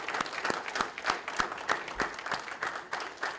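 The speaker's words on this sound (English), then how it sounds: "Please join me in recognizing the accomplishments of our graduates with another round of applause." Sustained applause from a graduation ceremony audience honoring the graduates, a dense steady patter of many hands clapping at moderate volume with no voices on top.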